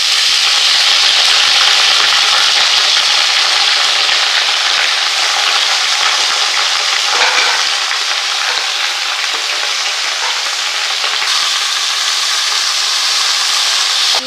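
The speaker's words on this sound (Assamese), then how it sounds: "এতিয়া আমি আলু ফ্ৰাই কৰি লৈছোঁ।" Potatoes and bottle gourd frying in oil in a pan: a loud, steady sizzle and hiss that runs unbroken with occasional faint stirring scrapes, and no talking.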